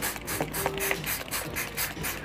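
A spray bottle mists water onto tissue paper laid over salad seeds for germination, giving a run of quick, fairly close mechanical pumping pulses in a steady, repeated rhythm with no talk.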